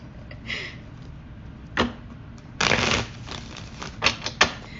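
Tarot cards are shuffled by hand, giving several quick riffling bursts and sharp flicks at uneven intervals, fairly close, with no speech.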